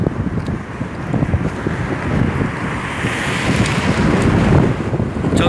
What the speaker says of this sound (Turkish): Çok güzel rüzgar esiyor ya.